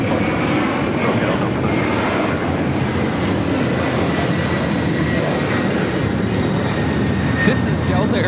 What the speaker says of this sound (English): This is Delta Airlines 1377 taking off to JFK on a 767-300ER.